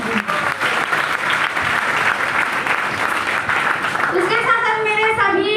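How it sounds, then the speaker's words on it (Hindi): An audience claps loudly and steadily for Ambika madam at a local leaders' gathering in Rajnandgaon. The applause stays dense and unbroken throughout, and a voice rises over it near the end. "मैं अंबिका मैडम के लिए एक बार जोरदार ताली चाहती हूँ।"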